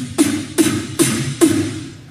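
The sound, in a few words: beatbox imitation of a snare drum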